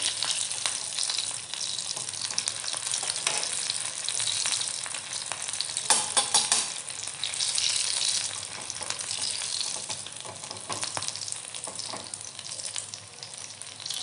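Mirchi vada fry in hot oil in a kadhai with a dense, steady sizzle and bubbling that holds for the whole stretch, and a few louder crackles and scraping stirs sound close by.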